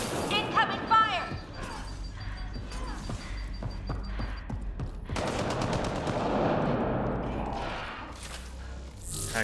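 Rapid gunfire in Mass Effect Andromeda: loud machine-gun bursts and sharp shots with occasional crashes and thuds, continuing through the whole stretch, with voices mixed in among the combat.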